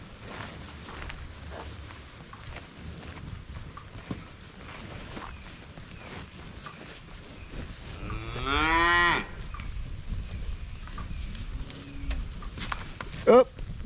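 A heifer lets out one loud, drawn-out moo after touching an electric fence on a farm, standing out over faint rustling and footsteps, with a short bump of noise just after.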